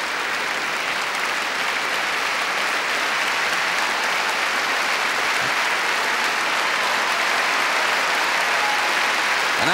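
Packed concert hall audience applauding after a performance of Beethoven's Fifth Piano Concerto in E-flat at the Royal Festival Hall, a dense, steady roar of clapping filling the whole stretch at full strength.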